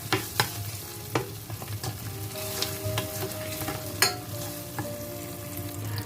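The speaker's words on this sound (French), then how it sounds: "je vais faire frire ma tomate" Tomato frying in a pan for a Cameroonian-style tomato sauce, with steady close sizzling and occasional sharp clicks of stirring, and no voices over it.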